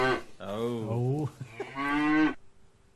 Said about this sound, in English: You would point the arrow and it would be the cow.